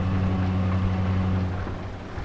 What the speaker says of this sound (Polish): Oczywiście deszcz cały dzień pada od rana.